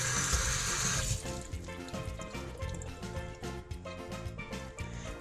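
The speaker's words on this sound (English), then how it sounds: "you want to make sure you rinse them thoroughly" Fresh beans are rinsed under running tap water, starting with a loud hiss of the faucet stream that drops after a second into softer splashing and sloshing, heard close with no talking.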